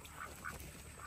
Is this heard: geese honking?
yes